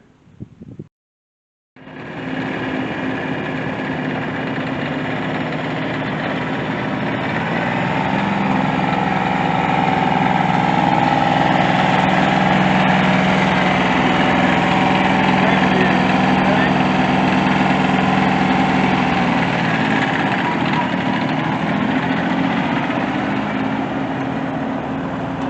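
A Kubota B6100 compact tractor engine starts after a brief clatter and settles into a steady, fairly loud diesel idle. The idle swells a little partway through and continues without a break, with no one speaking over it.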